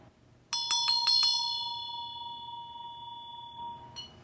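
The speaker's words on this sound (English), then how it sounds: "This is a bell." A small bell struck about five times in quick succession, leaving a clear, sustained ringing tone that slowly fades, then struck once more near the end, close and alone with no talking.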